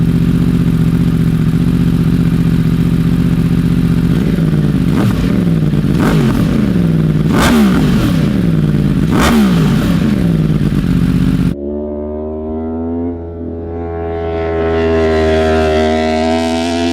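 A cross-plane crank motorcycle engine with uneven firing, loud and close, idling roughly then revving in repeated sharp bursts, before a separate long rising rev with a harmonic whine.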